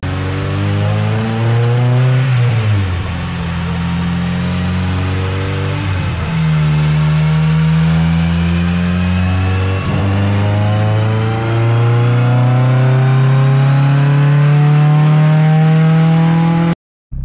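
A 2007 Honda Civic Si with a K24A engine revs hard on a dynamometer, rising steadily in pitch through several climbing pulls with brief dips between them, loud and continuous with no talking.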